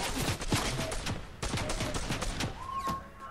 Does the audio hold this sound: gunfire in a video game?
yes